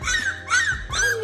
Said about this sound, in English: Gonna let the dogs out.